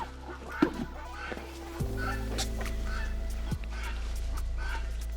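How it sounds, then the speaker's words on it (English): Chickens and turkeys being herded back into their coop make scattered clucks and short calls over a steady low mechanical hum, moderately close. "Once we get the chickens and turkeys back inside their coop,"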